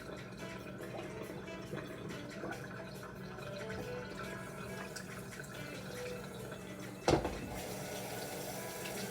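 Tap water runs steadily over freshly washed cranberry beans in a kitchen sink, a continuous splashing wash with a brief louder clatter partway through and no speech.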